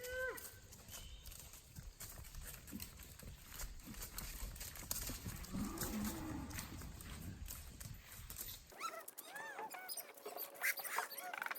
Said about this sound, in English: Cows stopping to smell the flowers.